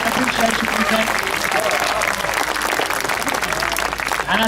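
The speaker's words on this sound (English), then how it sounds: "Give him a nice big round of applause." A zoo audience applauds during an elephant and mahout show, steady dense clapping filling the space for several seconds, with a presenter's voice talking over it.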